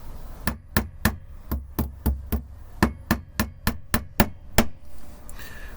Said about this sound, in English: Show you here again using the thin part of the hammer